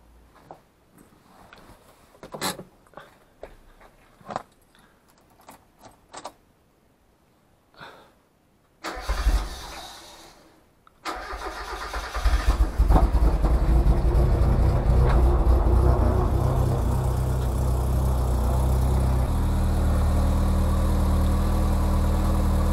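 A Mazda MX-5's engine cranks and fires up partway through, after quiet handling sounds, then settles into a steady, loud idle with the car in for a coolant flush.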